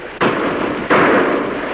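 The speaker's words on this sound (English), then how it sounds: "Shots sound like they come from over ridge." Two loud, close gunshots ring out about 0.7 seconds apart in a radio drama staged as shots from over a ridge, each leaving a long rumbling echo tail.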